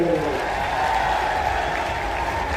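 A large crowd at a political gathering of the DSC community in Jind claps in dense, steady applause, with voices murmuring faintly underneath.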